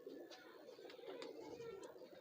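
Pigeon, a high-flying breed with large wings, giving soft low cooing calls close by with a few brief sharp sounds, all faint and alone without talking.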